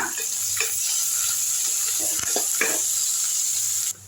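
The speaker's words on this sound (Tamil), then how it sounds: "கடுகு நல்லா பொரிஞ்சிருச்சு. நல்லா வதக்கி விட்டுருங்க." Mustard seeds sputtering and onions sautéing in hot oil for a Tamil-style tomato kuzhambu, a steady bright sizzle broken by a few sharp pops and the scrape of a spoon stirring the pan.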